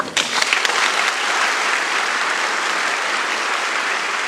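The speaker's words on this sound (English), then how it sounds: "Applause for Pope Francis, who's just delivered a state address" Dense, loud audience applause fills a hall after Pope Francis delivers a state address in Singapore at NUS University Cultural Centre, beginning with a few sharp claps and settling into a steady roar with no speech.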